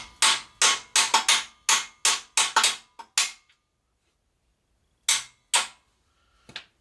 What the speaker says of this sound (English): when you hammer these bolts in, you're going to mess the threads up